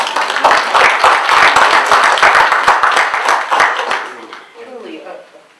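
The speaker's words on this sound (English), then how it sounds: "that is absolutely something that we must applaud you for." An audience at a policy forum on security in the Sahel claps in a dense, lively burst of applause that thins out and fades after about four seconds.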